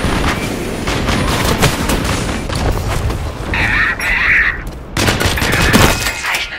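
Rapid bursts of gunfire crackle through a dense, noisy video game soundscape, with heavy booms and a brief high whine partway through.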